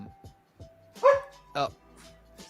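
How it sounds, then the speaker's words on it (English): A young puppy yips and barks in short high bursts close to a microphone, with a couple of louder barks standing out over people talking in a call. "I got a new puppy back here."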